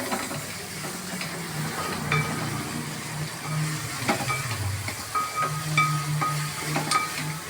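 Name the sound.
onions sautéing with salt in a pan for beef kakka roast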